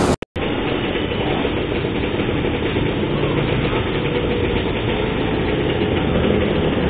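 Several small mini motorbike engines idle and rev steadily together, a loud continuous close-up drone with no pauses after a brief click at the start.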